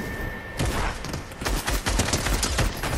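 Rapid automatic gunfire in Fortnite, loud, close bursts of shots rattling in quick succession after a brief quieter opening.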